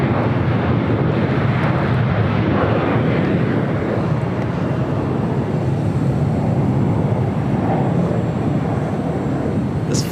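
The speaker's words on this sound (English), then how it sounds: "we got an A380 Super on the north side" An Airbus A380 airliner at LAX, a loud continuous broadband jet roar filling the whole stretch, steady and close with some wind buffeting.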